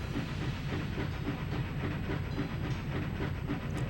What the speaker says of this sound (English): once you hop on the train itself